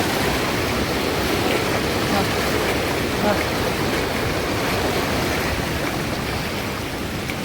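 Puray Falls waterfall pours in a steady, loud, broadband rush that stays constant throughout, with no break and no other clear sound rising above it.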